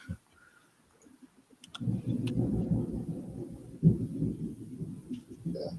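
Storm thunder outside rolls in as a sustained low rumble after a quiet start, swelling with a sharper crack midway, then continuing to grumble steadily through the rest of the stretch.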